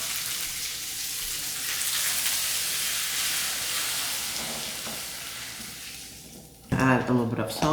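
Pasta frying in a home kitchen pan gives a steady broadband sizzle with stirring for about six seconds, then a brief louder burst of clatter near the end.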